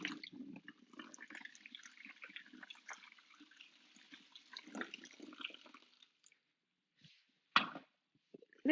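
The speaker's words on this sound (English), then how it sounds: "when I bring the two together, this is going to instantly create both solid, liquid, and gas simultaneously and generate a snow cloud right here in the workshop." Boiling water meets liquid nitrogen in a theatre workshop, producing a steady hissing, bubbling rush for about six seconds, then silence broken by a couple of short, sharp splashing bursts near the end.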